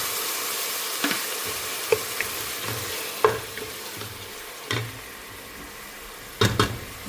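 Sliced onion and garlic fry in hot oil in a pan, giving a steady low sizzle with occasional light clinks and scrapes of a utensil against the pan at irregular intervals.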